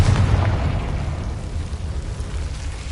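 Confringo blasting spell explosion in Hogwarts Legacy, a loud, deep rumbling boom that sustains and slowly decays over a few seconds.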